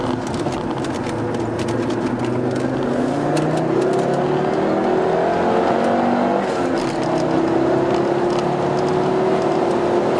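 A race car engine drones loudly and continuously around a circuit, its pitch climbing and dropping as it accelerates and shifts.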